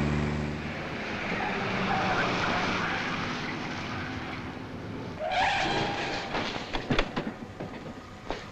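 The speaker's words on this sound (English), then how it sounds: "Keep the engine running." An aircraft engine keeps running as a loud, steady roar. Partway through it grows rougher, with a few sharp knocks, and some voices are heard under it.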